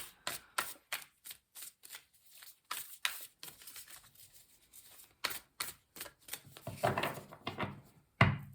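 Tarot cards being shuffled by hand, a series of sharp crisp riffles and slaps in quick bursts with short pauses between, close and fairly quiet, ending in a louder snap of cards.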